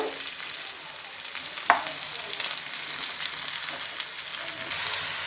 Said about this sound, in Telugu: వేసుకొని కొద్దిగా సేపు ఇట్లా వేపుకుందాము